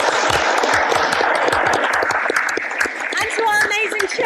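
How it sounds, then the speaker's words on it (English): An evening panel audience at The World Transformed 2023 applauds itself: dense, steady clapping fills the room throughout, with voices rising in the crowd toward the end. "I want you to give a round of applause to yourselves,"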